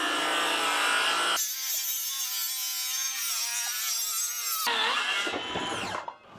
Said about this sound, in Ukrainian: А тепер дивись, як дана пила розпускає дошку.